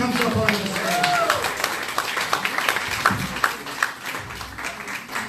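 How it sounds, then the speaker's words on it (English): A theater audience claps for a volunteer walking onstage at a magic and mentalism show, with steady, fairly loud applause and scattered sharp claps under a speaking voice. "Give her a big round of applause as she comes up on the"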